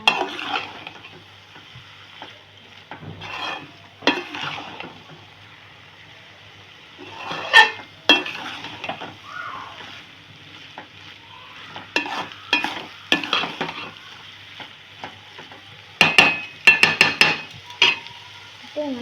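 Kothu parotta with egg being stirred and chopped in a pan, spatula scrapes and clangs coming in irregular bursts over a low steady sizzle, loudest in clustered strikes near the end.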